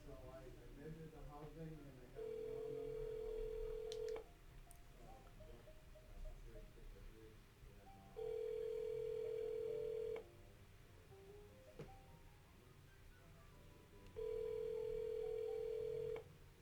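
An outgoing telephone call to a property owner rings back three times in evenly spaced, steady tones about two seconds long, with faint background noise between rings.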